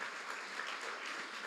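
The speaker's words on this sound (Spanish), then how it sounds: "un aplauso de bienvenida también a la familia" A church congregation gives a welcoming round of applause, a steady wash of many hands clapping at moderate distance throughout.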